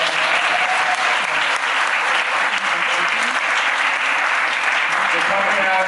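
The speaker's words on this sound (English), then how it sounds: "can you guys give each other a round of applause?" An audience at a rally against poverty in Westchester applauds steadily, a dense wash of clapping that holds loud and unbroken throughout, with faint voices mixed in.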